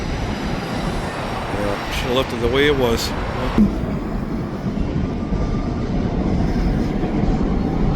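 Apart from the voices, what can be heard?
old BC Railway freight cars passing on train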